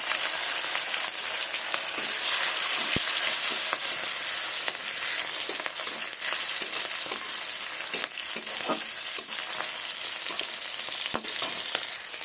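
Bay leaf, whole cumin, five-spice seeds, chili and sweet pepper frying in oil, a dense, continuous close sizzle with occasional crackles and faint scraping stirs.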